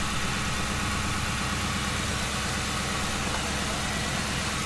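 A 2005 Ford Crown Victoria project car idles steadily after a jump start, its engine giving a smooth, even, low rumble with a constant throb, close and uninterrupted throughout.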